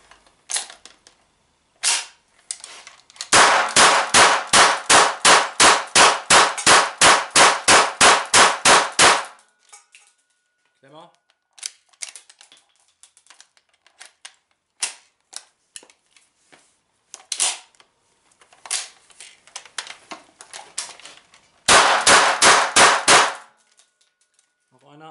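A GSG MP 40 9mm PAK blank-firing submachine gun in a 500-round endurance test, ripping off a long rapid burst, then scattered single shots and short bursts, and a final fast burst, sharp and close.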